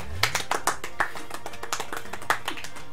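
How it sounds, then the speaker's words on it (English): Soft, scattered hand claps of a polite golf clap from players congratulating the winner after a Towerfall Ascension match, a few quick sharp pats spread unevenly over a few seconds with faint voices in the background. "Golf clap!"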